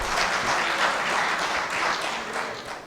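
Mushaira audience in Gorakhpur clapping to welcome poet Shaista Sana to the microphone: a short burst of full, steady crowd applause that holds at the same level throughout.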